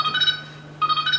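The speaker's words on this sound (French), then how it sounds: "le téléphone a sonné" A telephone rings on a theatre stage during a comedy play, two bursts of a bright electronic trill separated by a short pause, moderately loud and with no talk over it.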